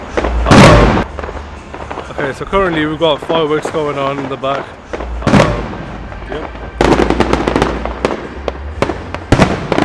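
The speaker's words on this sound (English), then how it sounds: "currently we've got fireworks going on in the back" Fireworks crackle and pop in the background, sharp bursts and rapid crackling clusters spread across the clip, while someone speaks in between.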